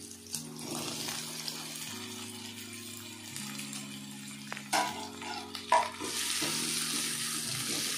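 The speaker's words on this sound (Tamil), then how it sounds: "இஞ்சி பூண்டு கொஞ்சம் நல்லா வதங்கிட்ட உடனே நம்ம சின்ன வெங்காயம் போட்டுக்கலாம்." Shallots frying in a pan with ginger and garlic while being stirred, a soft sizzle under scraping stirs and a few clatters, quiet and close, with a low hum running underneath and no talk.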